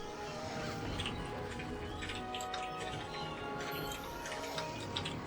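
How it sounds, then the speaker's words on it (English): Birds cawing in Monster Hunter Freedom 2 during an online hunt, a steady layered wash of caws and chirps mixed with ticking game ambience, continuous and moderately loud throughout with no talk. "Listen to that sound of the fucking birds that I can't do anything about."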